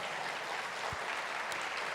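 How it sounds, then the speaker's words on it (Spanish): A church congregation applauds during a Spanish-language service, a steady wash of distant, faint clapping with no individual claps standing out. "Dele un aplauso al Señor."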